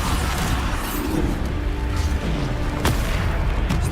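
Bombarda explosion spell blasting in the Hogwarts Legacy video game, a dense, loud booming rumble of combat throughout, with one sharp crack near the end.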